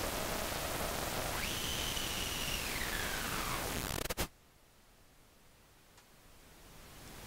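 A synthesized random noise drone texture with reverb plays from an iPad synth, a dense hissing wash with a gliding tonal sweep, cutting off abruptly with a click into a much quieter low hiss.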